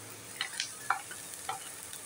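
Beans, peas, carrot and capsicum go into a pan of lightly browned onions for ragi soup, heard as a soft, steady sizzle with a few brief scraping stirs, close and fairly quiet.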